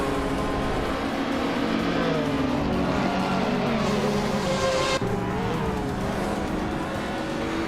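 Race cars in a racing video game, continuous roaring engines with rising and falling revs as cars pass, a sharp shift midway, loud and sustained with no talk.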